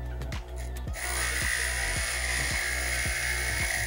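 A stained glass grinder with a water-fed bit hums steadily up close while sharp, jagged glass edges are smoothed, with rhythmic scraping pulses as the glass meets the wheel.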